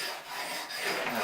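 An ice skate blade drawn slowly along a honing stone makes a close, steady raspy scrape that builds slightly over about a second.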